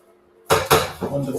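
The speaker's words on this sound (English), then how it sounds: "I'm just going to mix it into those onions, try and scrape the bottom" Spoon scraping and clattering against the bottom of a pan while mixing flour into onions, three loud close metallic strikes and scrapes in quick succession after a moment of quiet.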